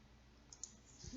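A single key press on a computer keyboard while working in Blender comes as a sharp, soft click near the end, with a couple of faint clicks just before it in a quiet room.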